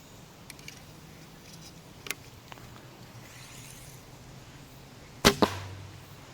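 A pure carbon arrow shot from a bow, its release giving a sharp twang as it strikes the metal arrow rest, a single loud crack followed by a quick rattle after mostly quiet background, with faint ticks earlier.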